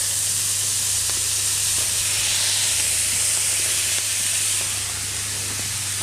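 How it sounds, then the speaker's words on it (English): Brussels sprouts fry in butter and a splash of water, sizzling and hissing steadily in a hot pan, a constant bright steamy crackle with a low hum underneath, no voices. "frying and steaming at the same time"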